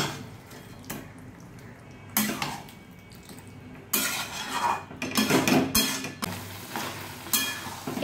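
Chicken with spices and oil is stirred in a pan: a spoon scrapes and clatters against the metal in irregular bursts, with quiet sizzling in between.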